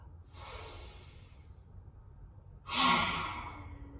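Two forceful lion's-breath exhales through an open mouth with tongue out during a yoga session, a longer breathy rush followed by a louder, sharper blast after a pause, close and alone without talk.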